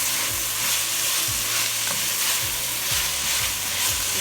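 Vegetables for keto cauliflower fried rice stirred in a hot pan, a steady loud sizzle with repeated scraping strokes of the utensil, close up and without talking.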